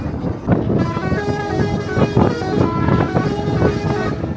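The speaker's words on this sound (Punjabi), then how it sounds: "ਪਹਿਲੀ ਵਾਰੀ ਹਾਰਨ ਮਾਰਿਆ ਅੱਜ" A loud, sustained truck horn blares continuously over rumbling engine and road noise, steady and close, with no gaps across the whole stretch.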